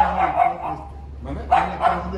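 A few short dog barks from small dogs, a female and two males, sound in quick bursts at moderate distance, with quieter gaps of room noise between them.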